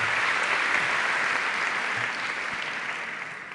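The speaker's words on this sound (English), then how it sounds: "a very warm applause for our guest of honor tonight" Warm crowd applause at an evening literary festival event in Brussels greets a guest of honor, a full, steady wash of clapping that slowly tapers toward the end.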